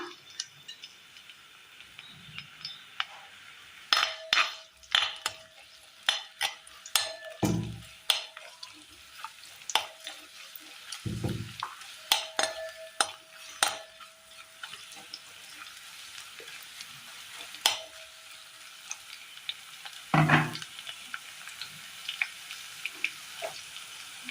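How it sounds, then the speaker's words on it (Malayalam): Green chillies fry in oil in a pan with irregular sizzling pops and crackles, plus a few louder clatters and low thumps over a quiet background. "അതിലൊരല്പം എണ്ണ ഒഴിച്ചു കൊടുത്തിട്ടുണ്ട്. ഇതിലേക്ക് പച്ചമുളക് ഇട്ട് കൊടുക്കാം."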